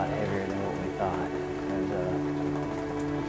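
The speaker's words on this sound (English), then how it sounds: "The only downside is the rain is a lot heavier than what we thought." Heavy rain pours steadily onto surfaces outdoors during a Kentucky deer hunt, a loud, continuous hiss and patter filling the whole clip with no pauses.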